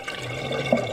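Toilet tank refilling after a flush, overflow tube inside, water rushing steadily at close range with a brief gurgle near the end.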